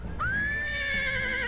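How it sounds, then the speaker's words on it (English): A horse in the video game Eternal Sonata gives a single loud, drawn-out whinny that rises sharply and then holds, ringing over a low rumbling game background. "This horse is gonna eat me alive!"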